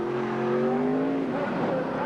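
AUSCAR race cars running side by side into a braking zone, engines droning loudly and steadily with pitch sliding down as they slow, heard close over a commentator's voice.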